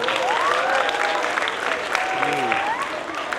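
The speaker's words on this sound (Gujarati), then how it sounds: "તાળીઓ જોરદાર." A crowd claps steadily at a primary school Republic Day prize ceremony, the applause sustained throughout while a voice speaks over it.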